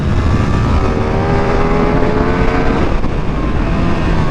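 A Ducati Streetfighter V2 motorcycle accelerating hard on a race track, its loud, close engine note climbing steadily in pitch through the rev range with harmonic whine, then dipping briefly before pulling on.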